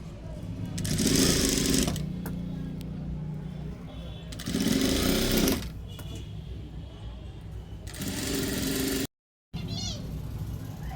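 A sewing machine stitches a blouse hem in three loud, close bursts of fast mechanical whirring, with quieter gaps between them where a voice can be heard.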